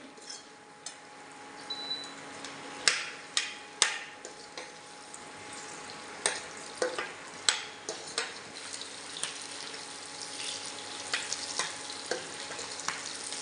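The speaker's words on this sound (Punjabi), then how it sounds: "ਪਿਆਜ਼ ਆਪਾਂ ਇਦਾਂ ਹੀ ਕੜਛੀ ਫੇਰ ਫੇਰ ਕੇ ਭੁੰਨ ਲਵਾਂਗੇ" Onions frying in a pan while a ladle stirs them, with sharp scraping clicks and clatters recurring every second or so over a steady sizzle close by.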